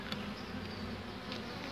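Honeybees buzzing around an open hive during swarm-prevention work, a steady dense hum with no pauses from start to finish.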